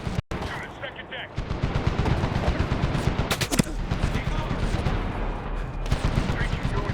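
Gunfire in the Medal of Honor video game: dense, rapid automatic rifle bursts crackling almost continuously, with a sharp burst near the start and radio-style voices talking over the shooting.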